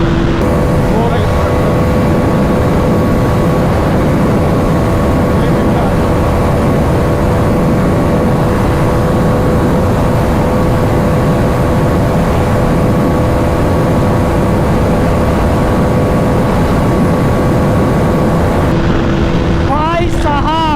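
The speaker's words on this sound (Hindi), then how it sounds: "लिमिटर आ गया, लिमिटर आ गया।" A Pulsar NS400z and a Triumph Thruxton 400 in a drag race, engines roaring loud and continuous, bouncing off the rev limiter, with excited commentary shouted over the noise throughout.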